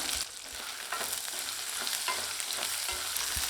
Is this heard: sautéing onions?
yes